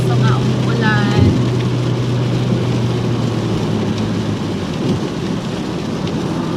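Rain falling steadily in a green mountain area, an even hiss of droplets with a low hum from a vehicle nearby, and a brief voice near the start.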